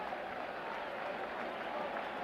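A huge crowd at a 1998 Mets–Yankees baseball game in the tense 9th inning, a steady wash of applause and crowd noise heard from afar, fairly faint and even throughout.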